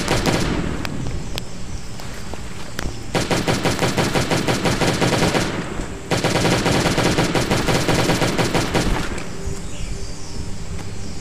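Rapid automatic gunfire in the zombie survival video game Last Day on Earth: Survival, loud close bursts of a few seconds each separated by brief pauses, with scattered single shots between.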